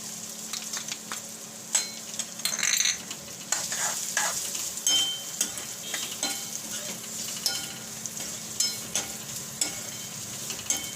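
Chopped onion frying and sizzling in a pan for a stuffed capsicum curry, a steady close crackle broken by the scrape and clatter of a spoon stirring.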